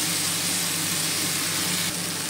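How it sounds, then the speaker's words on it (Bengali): Spices frying hard in a pan for capsicum bhetki fish, a dense, loud and continuous sizzle that holds steady throughout with no speech over it. "এখন এটাকে ভালো করে আমি একটু কষিয়ে নেব"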